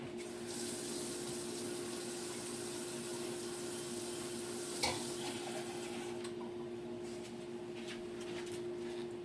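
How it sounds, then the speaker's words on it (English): Water runs steadily from a tap into a container holding dehydrated eggs, a constant even splash for the whole stretch with one brief clatter midway. "I'll put some water in it."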